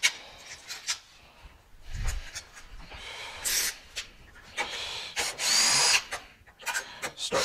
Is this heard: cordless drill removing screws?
yes